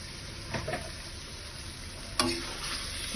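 Taro stems sauté in a pan with a quiet, steady sizzle, and a spoon stirs them with a few scrapes and one sharp clink against the pan.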